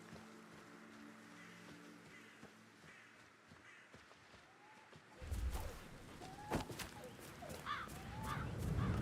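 Crows cawing in the video game Hitman, several harsh calls scattered over a steady low ambient bed, growing louder and busier in the second half.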